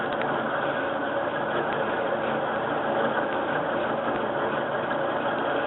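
A South Bend 10x24 metal lathe cutting at low speed under hand feed, giving a steady, continuous mechanical whir and grinding drone at moderate level with no pauses or voices.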